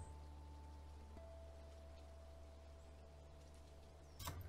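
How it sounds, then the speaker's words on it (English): Steady rain falls in the wolf game WolfQuest, a soft continuous hiss over a low ambient drone, ending with a short louder burst. "It's raining, I don't like that."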